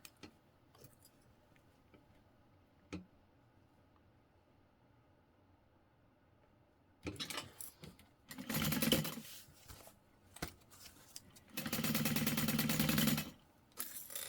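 A sewing machine stitches a handbag seam in two bursts of steady whirring, the second longer, with quiet handling clicks between them.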